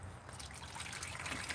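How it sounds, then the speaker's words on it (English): Water trickles and dribbles onto the top of a worm bin, a soft, steady, close pouring and dripping sound with no talking. "I'll probably have to keep pouring this water on top for the next few days."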